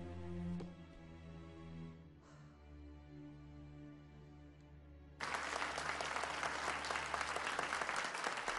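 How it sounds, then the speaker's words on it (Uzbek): An audience breaks into steady, loud applause that carries on without a break. Before it, a sustained musical tone plays in a dramatic film scene. "Bu bolakayga olqishlaringiz."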